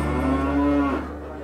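A cow lets out a single long, low moo close by on a farm, loud and drawn out before tapering off, with no voices.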